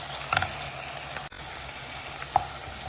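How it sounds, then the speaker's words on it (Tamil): Ground tomato paste sautéing in a pan for malai chicken, a steady soft sizzle and frying hiss with a couple of brief clinks of a spoon against the pan. "நான் ஒரு பெரிய தக்காளி நல்லா அரைச்சி வச்சிருக்கேன், அதை சேர்த்துடலாம். சேர்த்து அது நல்லா வதக்கட்டும்."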